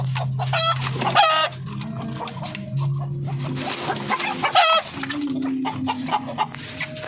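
Several Darag hens, a native Philippine breed, cluck and cackle close by in repeated bursts over a low steady background hum.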